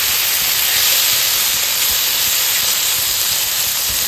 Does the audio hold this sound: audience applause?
no